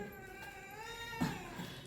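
A cat meows in a drawn-out, wavering cry, close by and fairly quiet, with no talking.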